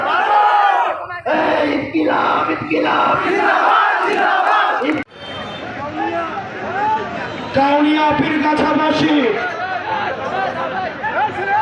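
A large crowd at a political rally chants a slogan in loud unison, rhythmic shouted call-and-response waves filling the space, with a voice leading over the massed voices.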